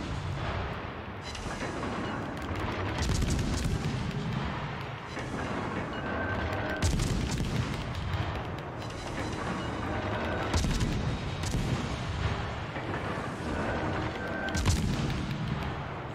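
Warship cannon fire from a naval battle video game, with the destroyer T-61 and the battleship Arizona in play: dense, repeated heavy booms and crackling blasts rolling continuously, loud with no speech.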